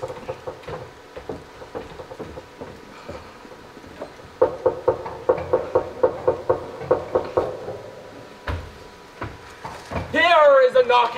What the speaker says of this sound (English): I hear more knocking.